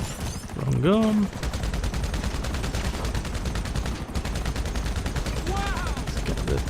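Rapid gunfire in the GTA Online video game, a continuous loud burst of dense shots running almost the entire clip, with brief synthetic tonal sweeps layered over it.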